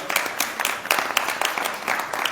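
Applause from an audience at a devotional talk glorifying Swami Prabhupada on his disappearance day, a dense, steady patter of many hands clapping at moderate distance for a couple of seconds, with no speech over it.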